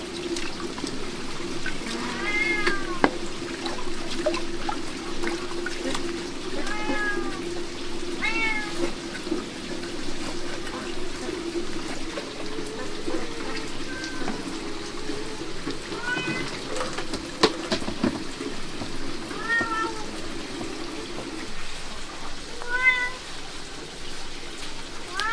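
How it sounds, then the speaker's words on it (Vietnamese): A hungry cat meows repeatedly at irregular intervals, close and fairly loud, over a steady background of running, trickling water and rain. "Mèo đang đói thì sao hả?"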